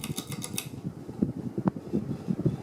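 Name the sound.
Hunter Original ceiling fan from 1991, motor noise on high speed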